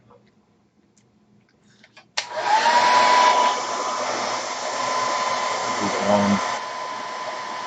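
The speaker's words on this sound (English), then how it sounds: "I don't think you probably want to hear my hair dryer" A hair dryer drying watercolor paint switches on abruptly and blows with a steady, loud whooshing roar, its pitch shifting slightly; a brief spoken phrase precedes it.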